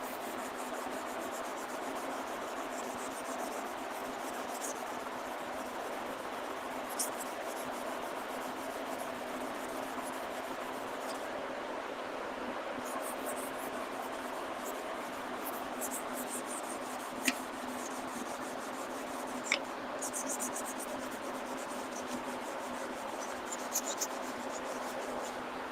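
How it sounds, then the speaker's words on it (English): Steady, soft scratching of sandpaper rubbed over a subwoofer box being prepped for gloss black paint, continuous and close, with a few faint clicks scattered through it. "Sick of all this damn sanding."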